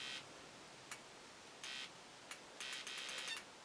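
An East German NVA RWA 72M Geiger counter gives faint, short electronic alarm beeps, several isolated chirps followed by a quicker cluster near the end over a soft hiss.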